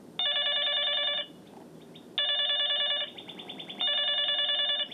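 A telephone rings in three loud electronic bursts, each lasting about a second, separated by short quiet gaps with faint background noise.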